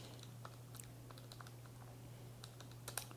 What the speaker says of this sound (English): So I'll type that in quick.